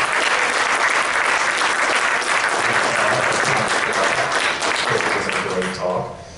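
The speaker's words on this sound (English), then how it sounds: "Round of applause." Applause from a conference audience closing a security talk at BSidesKC, dense steady clapping filling the room for about six seconds before thinning out at the end.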